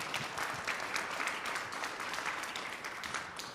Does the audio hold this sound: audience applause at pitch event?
yes